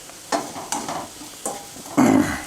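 Garlic frying in a pan for crisp roasted-poha chivda, heard as short bursts of sizzling and scraping as it is stirred, the loudest surge coming near the end.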